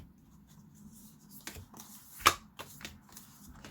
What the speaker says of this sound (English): they're telling me to get the cards out that came out when I was doing the pre-shuffle